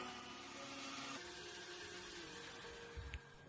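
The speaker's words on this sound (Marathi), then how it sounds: "झाकण लावूयात आणि लगेचच मिक्सरला छान असं फिरवून घेऊयात" An electric mixer blending watermelon juice with honey, a steady whirring motor hum running for a few seconds, fairly faint, followed by a brief low thump at the end.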